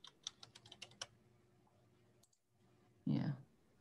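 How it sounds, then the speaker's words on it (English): Fast typing on a computer keyboard, a quick burst of crisp close clicks followed by a short pause, then a brief voice. "You're a fast typer."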